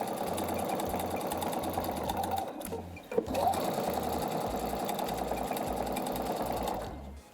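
A sewing machine quilts a patchwork cushion with blue triangles, running in a fast continuous stitching rattle that stops briefly mid-clip with a small clunk, then resumes and winds down at the end.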